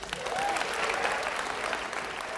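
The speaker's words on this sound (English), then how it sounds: "Give yourselves a round of applause." An audience claps in loud, dense applause, a steady wash of many hands throughout.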